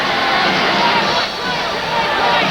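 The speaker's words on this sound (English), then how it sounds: "This crowd really gets into the game if you let them." Loud, steady roar of a large indoor crowd at a professional indoor soccer championship game in the Tacoma Dome, a dense wash of cheering and babble that dips briefly midway before swelling again.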